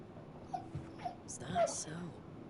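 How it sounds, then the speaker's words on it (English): A dog gives faint high whimpers and whines for attention, a few short cries scattered through the moment, heard softly over a quiet background. "I'm sure you can hear my dog."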